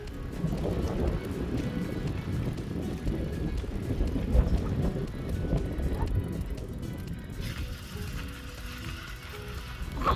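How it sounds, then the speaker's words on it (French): Gusty wind in cold rain on a mountain bicycle trip in South Korea buffets the microphone in a steady low rumble for the whole stretch, dropping slightly near the end. "il pleut et ça caille. Il y a un vent de fou."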